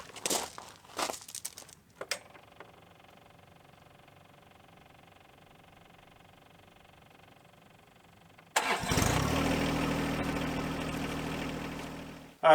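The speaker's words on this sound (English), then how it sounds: "we're going to start it up and let it run for a while and get to operating temperature" A John Deere 1025R lawn tractor engine cranks, then catches and settles into a steady, close, loud idle, after a few handling clicks and a quiet stretch.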